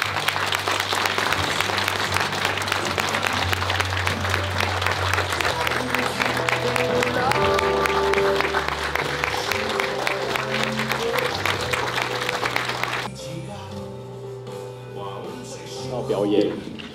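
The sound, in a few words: audience applause welcoming President Tsai Ing-wen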